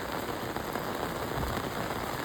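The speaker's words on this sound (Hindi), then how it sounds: "बहुत ही प्रचंड बारिश चल रही है।" Extremely heavy cloudburst rain pours down in Haridwar, a dense, constant roaring hiss of water hitting surfaces, loud and unbroken with no voices.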